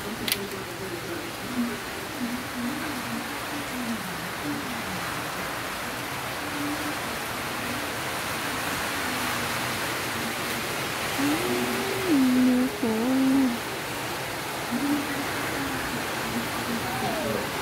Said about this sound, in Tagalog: Ayan na naman yung ulan.